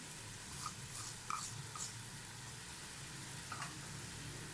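Vegetables sauté in a pan with corn and chopped capsicum for a chicken macaroni soup, making a soft steady sizzle with a few light clicks of stirring, close by and with no talking.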